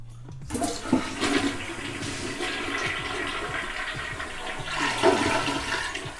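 A lever-pressed toilet flushes nearby in a short click followed by a steady rushing, gurgling drain that surges again near the end; no speech.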